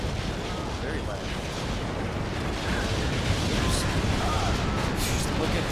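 Artillery barrage in Steel Division 2, heard at ground level as a dense, continuous roar of overlapping blasts that builds slightly louder in the second half, with no talking.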